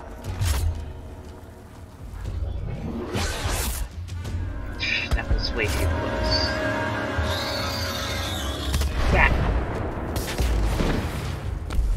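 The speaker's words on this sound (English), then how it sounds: "throw a grenade at him, it explodes, and then bits break off and those also explode" Grenade explosions in the video game Dauntless, with bits breaking off and also exploding: a few loud, sharp booming bursts over a busy, continuous layer of game noise.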